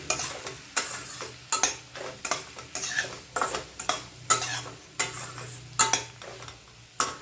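Spoon stirring bajri vada curry in a pan, a steady series of scraping, clinking strokes against the metal with a faint sizzle underneath, close and alone without any voices.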